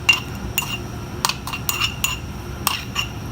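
A metal spoon scraping a mashed coconut and cumin seed mixture into a dish, producing several sharp clinks and scrapes against the pot, close and distinct, with no talk.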